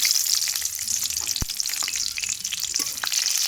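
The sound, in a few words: cut green chillies frying in oil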